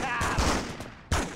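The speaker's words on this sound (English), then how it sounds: "Some thugs are up there like shooting at the police!" Bursts of gunfire from thugs shooting at police in the Spider-Man 2 video game crackle in a short, dense fusillade, fading briefly before another sharp volley.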